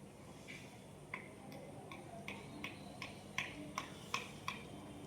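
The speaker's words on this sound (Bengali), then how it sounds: "এই হাতুড়ি হাতুড়ি শব্দ হচ্ছে" Faint, distant hammer taps from pandal construction downstairs, about ten sharp knocks in a loose, steady rhythm over a quiet room background.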